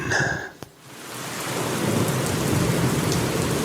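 A stormy night with a sharp crack of thunder, followed by a steady, loud downpour of heavy rain that keeps going alone with no voices.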